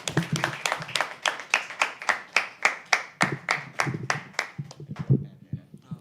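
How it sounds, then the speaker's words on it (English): Three people at a live poetry open mic clap in a steady, even rhythm, about seventeen crisp claps close up, trailing off at the end while a faint voice murmurs. "only these three were clapping"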